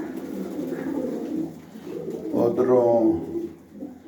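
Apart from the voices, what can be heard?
pigeons cooing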